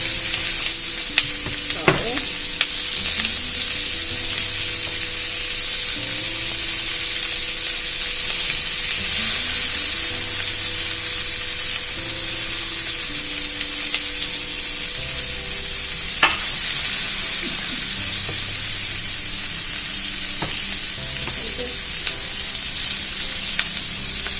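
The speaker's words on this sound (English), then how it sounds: "Onions are fried." Onion and garlic frying in a pan beside baby back ribs, a continuous close sizzle and hiss under low tonal background hum, with one sharp utensil clack midway and no voices.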